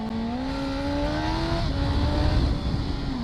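A Suzuki GSX-S 1000F motorcycle pulls hard, its engine note climbing steadily in pitch under heavy wind roar, with a brief dip as it shifts gear before rising again, loud and close.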